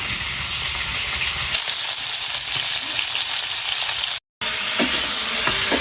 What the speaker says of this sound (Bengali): এই যে মা এখন সবজিগুলো কষায় নিয়ে তারপর জল দিয়ে দিব